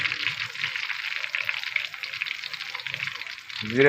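Cumin seeds sizzle steadily in hot oil with cinnamon and cardamom, a bright, even hiss close by, with a brief voice at the very end.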